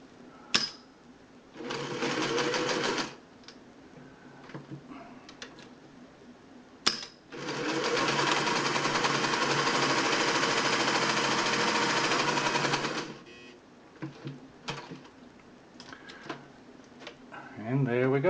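Singer 600E sewing machine running in several bursts: a brief stitching run, then a long steady whirring stretch of about six seconds, with clicks and short stops between runs, close to the listener.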